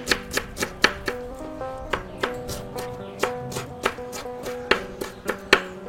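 Onion is chopped with a knife on a board for Ethiopian dulet. Around fifteen crisp, close knocks come in a quick, slightly uneven rhythm, with no talking.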